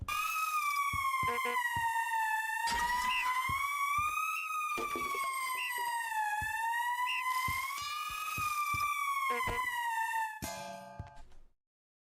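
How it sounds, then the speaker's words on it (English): An alarm in an indie video game sounds as a loud, continuous wailing siren tone that rises and falls, with brief clicks and bursts mixed in, before cutting off abruptly near the end. "the alarm sound is growing on me"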